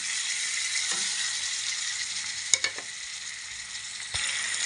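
Ginger and green chili paste fries in a pan with a steady, bright sizzle, broken by a few sharp clinks and stirring knocks of a utensil against the pan.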